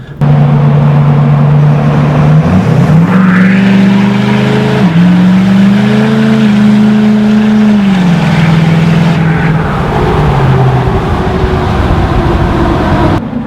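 A stock dually pickup truck's engine idles, then revs up loud and holds high for several seconds before dropping back toward idle, close and dominant with no talking.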